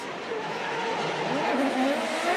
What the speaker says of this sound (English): GR Corolla chasing the GR86.